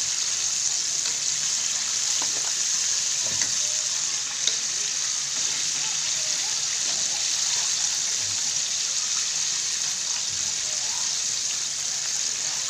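Freshly flipped pieces of fried chicken cooking in hot oil on unreduced heat: a constant bright sizzle with occasional soft pops, close and even throughout.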